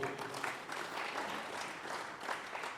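A Catholic parish congregation at a church celebration claps in sustained, dense applause, fairly quiet and continuous for a few seconds.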